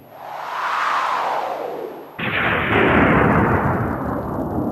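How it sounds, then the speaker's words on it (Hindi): A deep thunder rumble rolls in, swells and fades, then a second louder crack-and-rumble breaks in and sustains, heavy and booming with a wide, echoing tail, alone without speech. "गड़गड़ाहट हुई, गड़गड़ाहट की आवाज"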